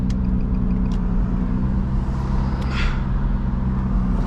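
A 500 HP Nissan G35 cruises at night, its engine and road roar steady and loud from inside the cabin, with a few brief higher-pitched whooshes over the continuous low drone.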